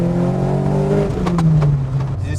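A Nova Sport car engine running on Weber twin 40 carburettors revs loudly up close, its throaty tone climbing and then falling back, with a few sharp pops as the revs drop.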